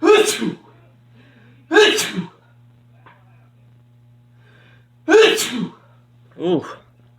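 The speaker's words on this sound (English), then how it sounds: "Whenever there's a third sneeze, oh no." Four loud, close sneezes burst out at uneven intervals, two near the start and two near the end, each sharp and short, with a low steady hum underneath and quiet gaps between them.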